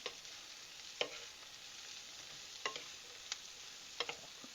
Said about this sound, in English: I'm just about a tablespoon of butter sauteing those onions